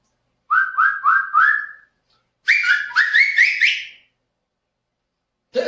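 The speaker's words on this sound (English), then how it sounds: "This is a whistle. It makes sound with vibrating or spinning air." A whistle is blown in two clear sequences of four rising chirps each, loud and close, separated by a short silence.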